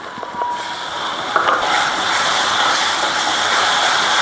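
River aair fish frying in a pan with ginger, garlic and onion pastes: a steady, loud hiss and sizzle throughout, with a few faint stirring clicks near the start and no talking.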